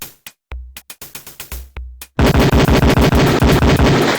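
A Beretta pistol fires on a police firing range in the game Police Quest 4: about nine spaced, sharp shots ring out, then a dense run of rapid, loud reports that go on to the end.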